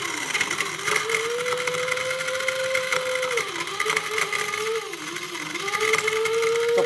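A Bullet mixer grinder grinding rock sugar gives a continuous high whirring motor whine with a gritty, rattling texture, its pitch dipping and rising slightly as the load shifts.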